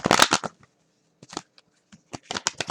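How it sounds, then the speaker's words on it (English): A short burst of tarot card shuffling up close, then quieter scattered shuffles and a final flurry, with silence in between. "So we're gonna shuffle these cards."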